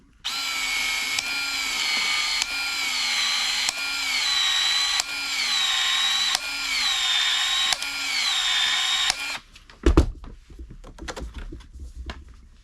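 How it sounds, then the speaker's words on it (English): A PEX expander tool opens the end of 3/4 inch PEX pipe with a series of loud, even mechanical whirring bursts, each about a second long. A few clunks and knocks follow once it stops. "Now I need to put a 3/4 inch PEX pipe on this end, so I switch my expander over to 3/4 of an inch"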